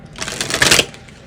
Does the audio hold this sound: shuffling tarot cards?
yes